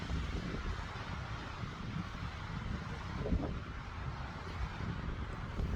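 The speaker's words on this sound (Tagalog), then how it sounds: "Tapos may hangin pa." Wind buffets a microphone at a cold, blustery beach, a continuous low roaring rumble with gusts rising and falling, no voices.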